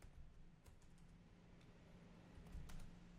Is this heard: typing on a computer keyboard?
yes